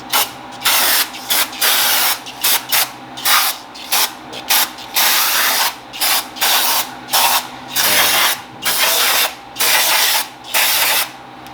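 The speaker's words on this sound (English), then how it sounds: "I'm just going to use some brake clean. I want to clean out this groove a little bit." Brake cleaner sprays from an aerosol can into a groove on the valve cover of a Toyota Matrix 1.8 L engine, in a loud, close series of short hissing blasts repeated about a dozen times.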